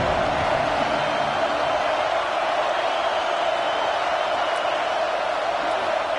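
Steady roar of a stadium crowd in an American football video game, a dense continuous wash of cheering at constant loudness with no distinct voices standing out.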